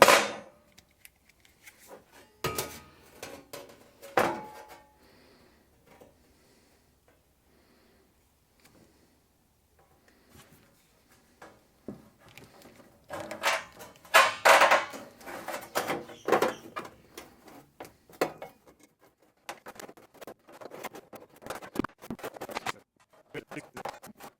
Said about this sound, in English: And then we'll cut it with the tin snips.